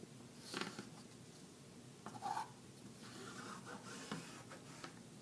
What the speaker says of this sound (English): So I'll go line up my yardstick all the way across the top and draw a line.